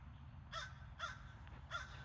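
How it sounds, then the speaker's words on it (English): Three coarse, scratchy caws from blackbirds come in quick succession, roughly half a second apart, clear against a constant low rumble of background noise. "Stupid blackbirds."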